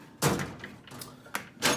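A tool drawer on a guitar workbench slides open in a few hollow thumps and rattling scrapes, close and moderately loud with brief pauses between.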